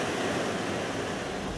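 Strong hurricane wind sweeps around Cabo San Lucas as a storm strengthens offshore, a dense, steady roar with no voices.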